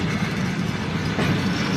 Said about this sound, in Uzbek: Nukusga qarab ketib qo'ytirgan poyezd bu.